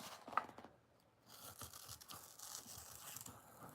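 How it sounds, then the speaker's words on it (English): Scissors snip through paper for a holiday art collage, quiet close crinkly cutting strokes repeating in a soft irregular rhythm after a brief pause, with no talking. "I don't think I can use scissors that way, but I'm gonna try."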